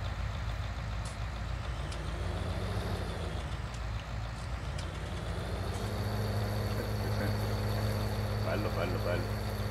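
In Farming Simulator 19, a tractor engine drones in a steady, fairly quiet rumble that slowly rises in pitch as it works, with faint talk in the background.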